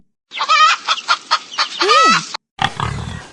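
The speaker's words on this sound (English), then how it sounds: "Hen!" A farm hen clucks in a rapid run of close, loud bursts that rise into a drawn-out squawk, then a short lower grunting sound follows after a brief pause.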